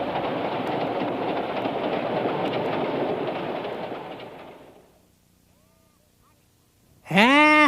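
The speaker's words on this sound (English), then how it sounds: "The train is now departing." A departing train gives off a broad, steady rumble that fades away over about five seconds into near silence, and a short chirpy voice-like warble follows at the end.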